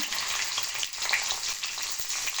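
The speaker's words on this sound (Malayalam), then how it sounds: "ഇഞ്ചി വെളുത്തുള്ളി മൂത്ത് വരുന്നുണ്ട്" Ginger and garlic fry in a pan for a tomato chutney, giving a steady, dense sizzle that holds at an even level throughout, close and clear with faint crackles and no voices.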